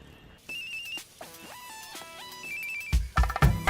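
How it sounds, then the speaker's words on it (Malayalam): A mobile phone rings with an incoming call, playing a melodic electronic ringtone of short beeping notes that rise and fall in a repeating tune. Near the end, louder thumps and noise break in over the ringing. "എടി ആ നമ്പറിന്ന് കോൾ വരുന്നു"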